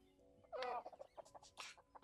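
Chickens in the video game Astra's Call cluck in a short quick run, fairly faint, with no one talking over them.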